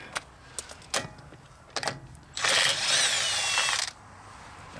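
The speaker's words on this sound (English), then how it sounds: "Axle spindle nut coming off new." Pneumatic or power impact tool spinning off an axle spindle nut on the front hub of a 1980 Ford F-350 service truck, a few short clanks and taps, then one loud sustained whirring burst about a second and a half long, close by.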